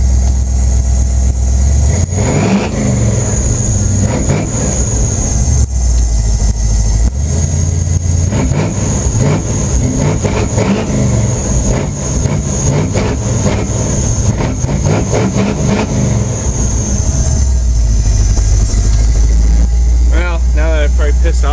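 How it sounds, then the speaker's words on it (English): A big-block Chevy V8 in a lifted K5 truck with linked caged suspension rumbles loudly up close, its low idle swelling through several throttle blips and revs over about twenty seconds, with someone talking over it. "rev it up for you a couple more times."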